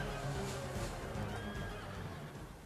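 Horses neigh and whinny during a cavalry charge in a video game battle, with clip-clop hooves and crowd noise beneath, moderately loud and continuous.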